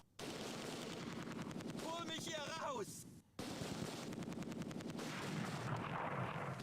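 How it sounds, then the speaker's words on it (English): Bazooka blasts and rattling gunfire in the WWII strategy game Close Combat 2: A Bridge Too Far, dense continuous battle noise with rapid bursts, a short pause, then more shooting, while a voice talks over it. "Oh shit, just fired a bazookas."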